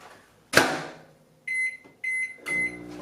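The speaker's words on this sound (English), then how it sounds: "We'll take it over to the microwave. We'll pop it in. And this goes in for 90 seconds." A microwave oven cooking a vegan meal prep dish, heard as a door clunk followed by a series of close, loud electronic beeps from the keypad and start, with no talking.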